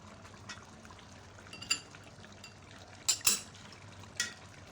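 A spoon scrapes and clinks against a pot while mutton brown karahi is served out, making a few sharp metallic taps and scrapes over a quiet background.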